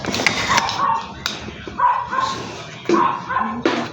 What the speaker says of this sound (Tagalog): Ingay naman ng aso ng kapitbahay.